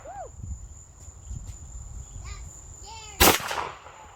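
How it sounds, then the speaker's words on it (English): One sharp, loud report from an AR9 firing at targets outdoors, sudden and close, heard after a stretch of quiet background with insects chirping. "First gun, an AR9."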